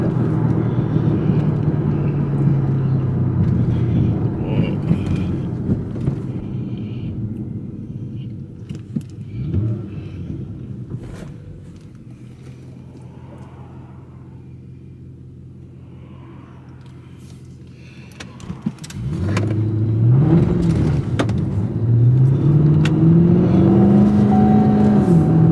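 A young driver's first car, bought at 18, rolls down a city street with a steady low engine rumble that eases off midway, then climbs again as it accelerates, pitch rising in stepped gear changes near the end.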